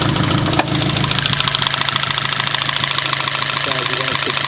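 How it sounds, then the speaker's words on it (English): A turbocharged car engine idling close by, with the blow-off valve and a Turbo Smart wastegate actuator, gives a steady rumbling drone with a brief sharp burst near the start. "I'm gonna show you guys the blow-off valve and the wastegate actuator."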